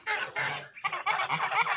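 Kholmogory geese honk close by, loud nasal calls in two quick bursts with a brief gap, with no talking.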